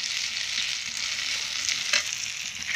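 Potatoes and onions frying in mustard oil, a steady close sizzle and crackle with a brief louder spatter near the end, no talking.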